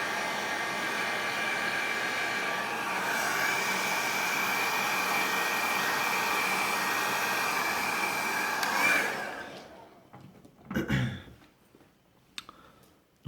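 Hair dryer blowing steadily while drying a moustache and beard, a loud continuous whoosh for about nine seconds that then cuts off, followed by a few faint handling clicks.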